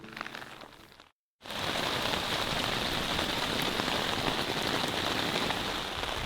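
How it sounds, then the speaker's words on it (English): Steady rain falls on an outdoor surface, a dense, even hiss that holds close and loud after a brief silent gap near the start. "It's raining."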